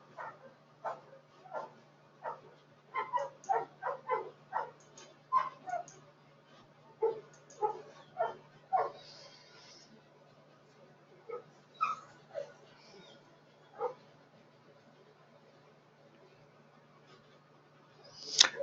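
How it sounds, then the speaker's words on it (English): Several dogs in a residential yard bark and yip in repeated bursts, aggravated by a loose neighborhood dog, fairly close with irregular pauses and a steady low hum underneath. "there's a loose dog in the yard. It's in the neighborhood. So he's aggravating my dogs."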